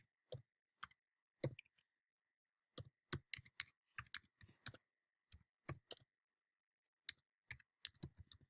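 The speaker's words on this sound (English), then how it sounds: "In the terminal, type the following command to start your SQL Server." Computer keyboard keys clicked in short bursts of typing as a command is entered into a terminal to start a MySQL server, with crisp, close keystrokes separated by brief pauses and no talking.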